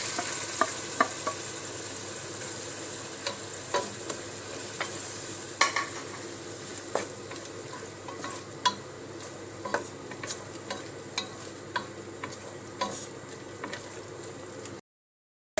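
Ground tomato paste with mint and coriander sautés in oil for mushroom biryani, a soft continuous sizzle with scattered spoon taps and stirring scrapes, close by, ending abruptly in silence.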